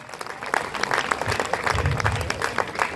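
Steady applause from a crowd, dense clapping that rises and holds throughout.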